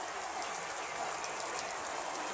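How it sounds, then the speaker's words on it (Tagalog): Steady rain patters on a shed roof, a dense, even hiss with no breaks, heard close overhead. "Ay naabot tayo ng ulan kaya buti na lang mayroon tayong kamalig rito."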